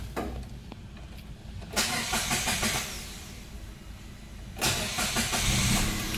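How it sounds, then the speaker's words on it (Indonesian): A Datsun Go with a 1000 cc three-cylinder engine is cranked. Two loud bursts of engine noise rise over a steady low rumble, and the car settles into an idle. "Sekarang coba kita starter."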